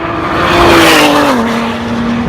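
A 2017 Ford GT's V6 engine drones loudly and close while driving, its steady tone sliding gradually lower over a couple of seconds beneath road and wind rush.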